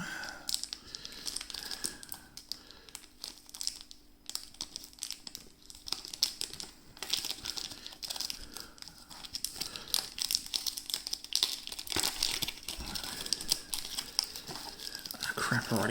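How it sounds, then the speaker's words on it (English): Crinkly plastic packaging around a trading card being torn and crumpled open, continuous close rustling and crackling with sharper tearing bursts toward the end. "Let's bust this bad boy open. Carefully open up my card."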